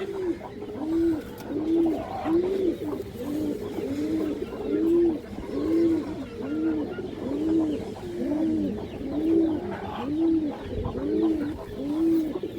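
Pigeons coo in a steady, repeated rhythm, about a dozen rounded throaty phrases evenly spaced and near, continuing alone without speech.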